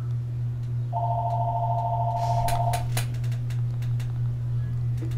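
A phone rings indoors with a steady electronic tone lasting about two seconds, followed by a few sharp clicks over a constant low hum.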